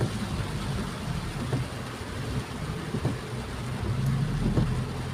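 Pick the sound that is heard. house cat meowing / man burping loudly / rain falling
rain falling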